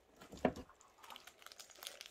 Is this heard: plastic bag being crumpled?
yes